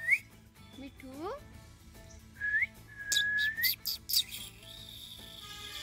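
A pet parrot whistles in short rising notes and brief chirps, fairly close and clear, with quiet background and a few sharper whistle bursts toward the end.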